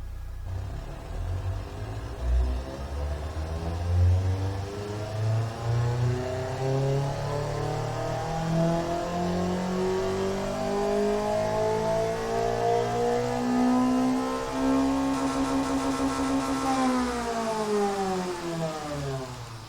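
A small, efficient experimental car engine in the Automation car tycoon game revs up with a rising, sweeping whine, loud and continuous throughout, with rapid harmonic climbs and a brief shift near the end; no talking.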